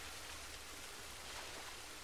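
A game waterfall in Delver pours in a steady, dense hiss of rushing water, close and continuous, with nobody speaking.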